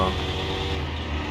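Car engine revving in Car Mechanic Simulator 2021, a loud, close, steady engine roar with a brief change in tone as a gear shifts, alone without talk.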